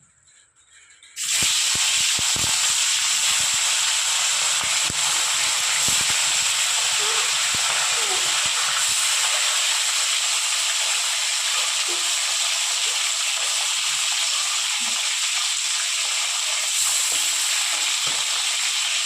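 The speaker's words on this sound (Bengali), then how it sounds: "গরম হয়ে গেছে এক এক করে আমি মাছগুলো ছেড়ে দেবো" Pieces of fish dropped into hot oil, setting off a loud, steady hiss and sizzle that starts abruptly and continues unbroken, close by, with no talking.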